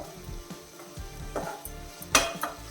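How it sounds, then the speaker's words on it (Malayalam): Sliced onions sautéing in a pan as chicken for pepper chicken is cooked, with a soft steady sizzle and several light scrapes and clinks of a spoon stirring against the pan. "നല്ല വഴണ്ട് കിട്ടട്ടെ"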